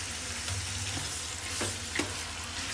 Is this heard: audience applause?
no